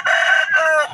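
A chicken gives a loud, close crow, a strained two-part call lasting under a second with no other sounds around it.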